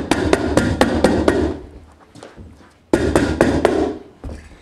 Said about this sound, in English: Now it's time to hammer tack it.